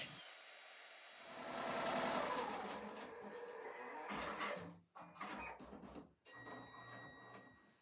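An embroidery machine stitches out a design nearby with a rapid, humming needle rhythm, broken by a few clunks and pauses near the end.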